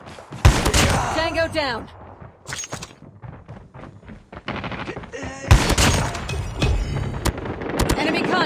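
Shotgun blasts in Call of Duty Mobile multiplayer, loud booming shots in quick bursts mixed with other gunfire and explosions, with game voice announcements over the action.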